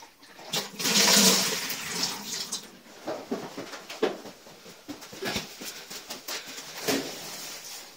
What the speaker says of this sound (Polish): puszczę zimną wodę, a ciepła jest zakręcona, więc nie powinna lecieć